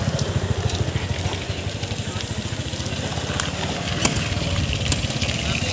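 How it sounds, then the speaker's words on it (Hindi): A motorcycle engine converted to an LPG gas kit, running on gas only with the petrol fuel shut off, chugs steadily at close range in a low, even idle. "जैसा कि हमने फ्यूल को बंद कर रखा है और गैस पे चालू है गाड़ी"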